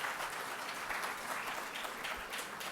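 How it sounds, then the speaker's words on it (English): Sustained audience applause at a technology symposium, a dense, steady wash of many hands clapping that holds at an even level throughout with no break. "so a big round of applause to him here"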